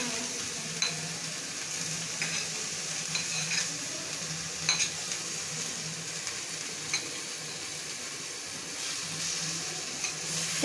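Chillies and other ingredients for bhel puri fry in a pan with a steady sizzle, punctuated by a few sharp scrapes and clinks of stirring, close and continuous with no talk.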